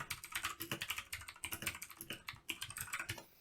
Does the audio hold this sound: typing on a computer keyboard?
yes